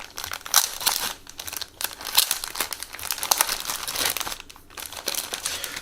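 A plastic bag from an AZ Model 1:72 Heinkel He 162 kit crinkles and rustles up close in irregular bursts as it is handled and opened.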